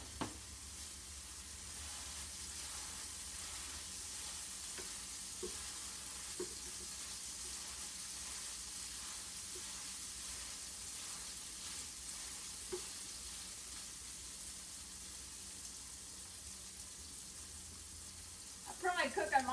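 Hamburger patties fry in a pan over medium heat, a soft, even sizzle holding steady for a long stretch, with a few faint taps and a louder clatter at the very end.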